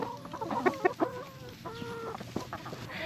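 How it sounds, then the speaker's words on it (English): A backyard homestead flock of chickens clucks and murmurs close by, several short bursts of clucking followed by a drawn-out call, with no talking. "There's almost nothing that a flock of chickens can't make right."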